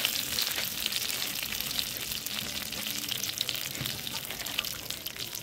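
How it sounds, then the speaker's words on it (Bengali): Nigella seeds (kalo jeere) crackling in hot oil as a tempering for a bata fish curry, a dense, even sizzle with fine popping sparks throughout, close and fairly loud with no talking. "তেলের মধ্যে দিয়ে দেবো কালো জিরে ফোড়নে"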